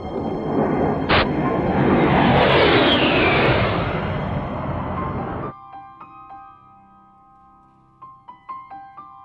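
An A-10 Warthog jet flies past as a loud, broad roar that swells and holds for several seconds, then cuts away to quieter tonal sounds with a few short knocks.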